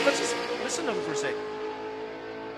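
A naturally aspirated hatchback drag car at Willowbank Raceway in Australia, during a drag and drive event, revs its engine in rising and falling sweeps, heard at a distance under a commentator talking.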